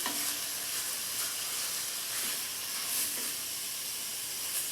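Food browns in a pan over medium heat with a constant, even hiss of sizzling and faint occasional stirring, close and steady with no speech.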